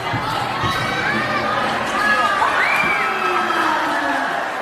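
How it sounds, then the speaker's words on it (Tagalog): A crowd at a basketball finals game in Tagum cheers continuously and loudly, with high-pitched shouts and whoops rising over the steady roar. "You could notice of the cheering from the Tagum crowd."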